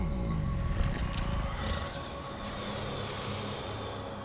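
Deep, breathy snorting and sniffing from the monstrous judge of the dead in the video game Dante's Inferno, loud and close over a low rumbling game ambience, with no speech.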